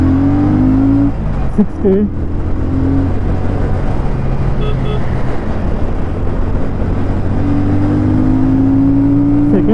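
Royal Enfield Shotgun 650 twin bobber motorcycle pulling hard through the gears on a highway: a loud, continuous engine drone with a pitch rise, a brief gear-change dip near two seconds, then climbing again under heavy wind noise, with a rider speaking briefly.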